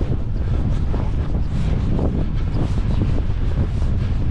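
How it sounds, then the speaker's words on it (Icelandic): Strong wind buffets the microphone at a model airfield, giving a loud, steady, roaring rumble with constant gusty texture and no talk over it. "Hérna kemur vindurinn af hæðinni þarna."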